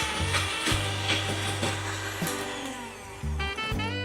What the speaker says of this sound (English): we're gonna beat them until they turn into soft peaks